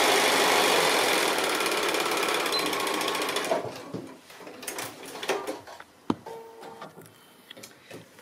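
A sewing machine runs steadily down the side seam of a fabric doll, a loud continuous mechanical whir for about three and a half seconds, then stops and gives way to quieter handling clicks and thumps.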